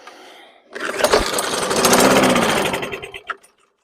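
A 2018 Craftsman M110 lawn mower with a gummy carburetor fires up and runs roughly for about two and a half seconds, a loud close buzzing engine surge that then cuts out.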